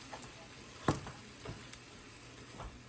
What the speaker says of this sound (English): just gonna heat up the chicken